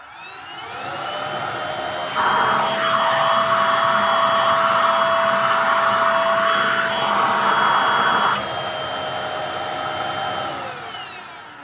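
An APOSEN H20-4 cordless stick vacuum runs with a loud, steady whine that rises to a fuller, more strained roar for several seconds, then drops back to its lighter hum. No one speaks.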